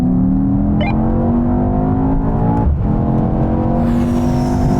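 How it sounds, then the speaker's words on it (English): Powerful performance cars, a BMW M5 CS, AMG E63, Audi RS6 and Porsche Panamera Turbo, accelerate hard in third gear in a rolling race, a loud sustained engine roar climbing steadily in pitch, with a brief whoosh partway through. "Now we're going to have another rolling race from 50 miles an hour, but this time with the cars in their sportier settings and their gearboxes locked in third gear."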